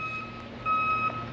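Steady electronic reversing beeps from snow-clearing vehicles working in the background, repeating tones at moderate distance over low engine rumble.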